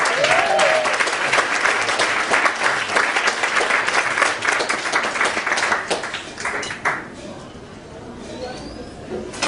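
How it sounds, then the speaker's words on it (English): An audience at an Odd Jobs Story League storytelling event claps warmly for a storyteller, a dense, lively round of applause that holds for several seconds and then tapers away. "Please give a warm round of applause and welcome Leon Deckelbaum."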